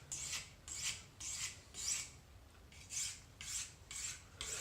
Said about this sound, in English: you flip it over to the fine side and then you just basically polish it, and that puts the really fine edge on it